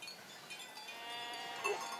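Sheep bleating on an alpine pasture in Switzerland, a flock's steady overlapping calls fairly faint and distant, with one slightly louder bleat near the end.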